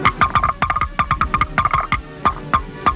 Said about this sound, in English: a shower of giant hailstones.